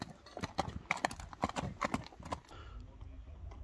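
A horse's hooves clip-clop at a brisk, even pace on hard ground, close and distinct, with quieter movement and ambient noise as the steps fade toward the end.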